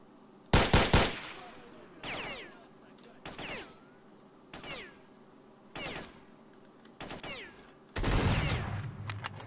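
Enemy gunfire in the video game STALKER, with a loud opening volley followed by repeated short bursts of shots at regular intervals, some sounding farther off, and a heavier burst at the end.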